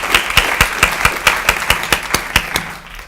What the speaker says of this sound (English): So I'd love to give them a round of applause for all of their hard work all throughout the year and tonight.